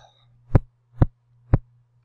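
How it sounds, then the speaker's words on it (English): A microphone is knocked against a head three times at an even half-second pace, each a dull, close thump over a faint steady low hum. "That was the sound of me banging my microphone against my skull."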